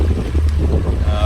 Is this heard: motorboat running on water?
yes